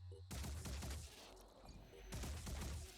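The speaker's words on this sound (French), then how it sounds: "3 coups de feu, t'as pas réussi à tuer un corrupteur" Rapid bursts of gunfire in the video game Phoenix Point, dense overlapping shots in two loud clusters with a brief lull between, heard faintly at low overall level.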